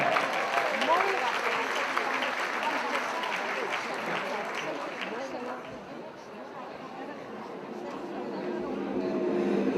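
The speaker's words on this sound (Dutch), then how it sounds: "Geef er nog een groot applaus." Audience applause at a women's leadership conference in Europe, a dense sustained clapping that fills the room, with a voice speaking over it.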